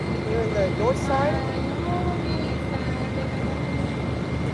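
An airliner taxis toward the runway at San Juan SJU airport with a steady, fairly loud engine drone and whine, while a voice talks over it.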